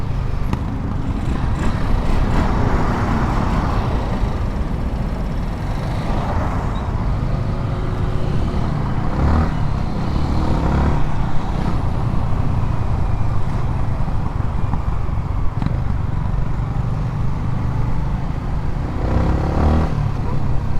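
Steady roar of street traffic in the Philippines, with motorcycle and car engines rumbling and passing close by throughout, loud and continuous with brief swells as vehicles go past.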